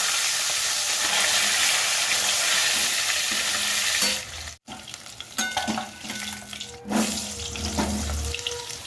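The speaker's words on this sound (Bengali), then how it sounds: "তেল দিয়ে দিয়েছি এবার মাছগুলো ছাড়বো" Fish is dropped into hot oil in a home kitchen pan, starting as a loud, even hiss, then breaking into sputtering crackles and uneven bursts after a brief gap, with no voices.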